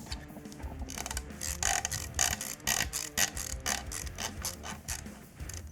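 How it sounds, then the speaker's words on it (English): A T25 screw on an FN SCAR rifle ratchets as it is loosened, a close run of quick uneven clicks with no voices. "I'm just going to loosen it, and once it quits ratcheting, it will pop out slightly"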